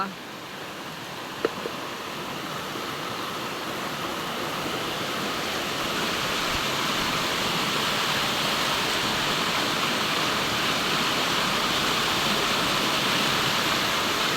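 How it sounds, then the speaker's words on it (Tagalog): Water rushes through a local stream used as a village bathing spot, a steady, loud, broadband roar that holds constant throughout with no voices standing out. "Ito po ang paliguan dito sa amin, sapa"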